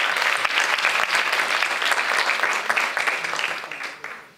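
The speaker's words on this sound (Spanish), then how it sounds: "Un aplauso, por favor." Sustained crowd applause at a 2019 International Day of Women and Girls in Science event in Panama, dense and steady throughout before tapering slightly at the end.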